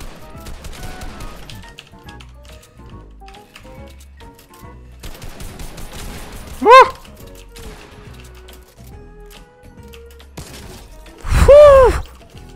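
Pump shotgun fire in Fortnite Battle Royale: scattered game gunshots and effects run throughout, with two louder, heavier blasts standing out a few seconds apart.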